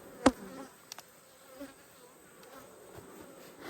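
A steady hum of many honey bees buzzing close by in an opened hive, punctuated by a sharp tap and a few soft knocks.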